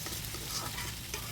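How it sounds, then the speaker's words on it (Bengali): Potato, tomato and fish curry with onions fries in hot oil, producing a brief, steady, hissing sizzle that carries through without any voice. "আমি রান্না করতেছি আলু টমেটো মাছ দিয়ে"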